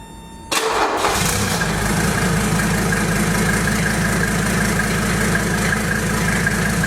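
A Mercedes OM617 diesel engine cranks briefly on a freezing morning and catches, then settles into a steady, loud idle with a clattering low rumble.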